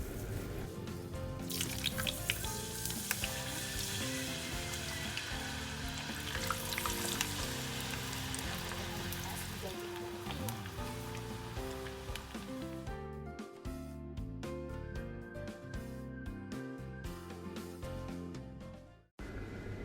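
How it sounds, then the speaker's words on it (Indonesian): Potatoes fry in hot oil with a dense, steady sizzle and crackle that fills the whole stretch, thinning toward the end before a sudden cutoff, with no talking. "Selanjutnya kita menggoreng kentang."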